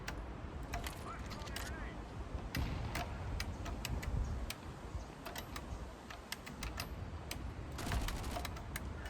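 Keys clacking on a buckling spring mechanical keyboard, irregular sharp strikes in bursts and pauses, fairly close but quiet over a low background rumble.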